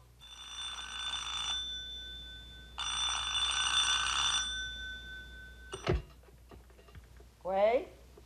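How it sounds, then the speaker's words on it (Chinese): A home telephone bell rings in two loud, clear bursts with a short pause between them, followed by a clunk and a brief voice-like sound at the end. "电话"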